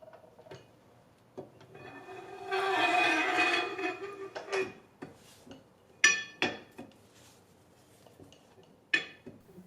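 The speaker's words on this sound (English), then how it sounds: "Again, the seal is lubed and the axle inserted." A Jeep Liberty rear axle shaft slides into its housing past a freshly lubed seal, giving scattered metallic clinks and taps, a short scraping rub, then several sharp distinct knocks as the splines are wiggled to engage, close and fairly quiet.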